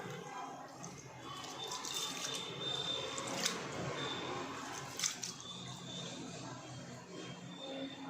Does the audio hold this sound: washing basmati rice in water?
yes